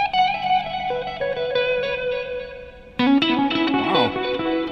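Guitar notes played through a Meris MercuryX reverb pedal, with a delay running inside the reverb on top of the pre-delay. Tones ring out and smear into a wash, and a fresh louder attack at about three seconds spreads into swirling, repeating tails.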